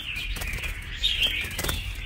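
A caged red-whiskered bulbul gives bright, sweeping high chirps, a few quick calls clustered near the middle, with light fluttering and rustling around them.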